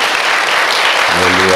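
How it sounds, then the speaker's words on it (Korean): Warm applause from an audience, a dense steady wash of many hands clapping at once; near the end a sustained pitched tone rises up underneath the clapping. "여러분 다시 한번 뜨거운 박수 해 주십시오"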